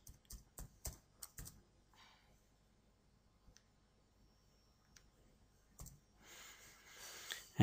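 Soft, quick clicks and taps of a computer keyboard as an email address is typed, in short bursts with pauses, faint and close, ending with a brief rustle.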